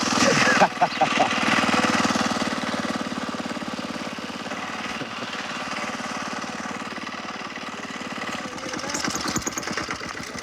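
A motorcycle engine runs with a rough, rattling chatter after a sharp start, then settles into a steady idle-like drone, with faint rhythmic pulsing near the end.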